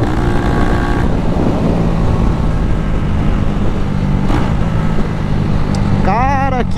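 A Honda Titan 250cc motorcycle with a modified carburetor runs on a highway, a loud, steady engine drone close up with wind rush, and a voice speaks briefly near the end.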